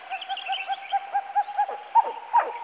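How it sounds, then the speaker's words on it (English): At Turtle Pond, a pied-billed grebe gives a long run of hollow, hooting calls, repeated at a steady rhythm and then breaking into a few louder, rougher notes near the end. "Pie-billed grebes are one of our most ancient birds. This one is calling from Turtle Pond."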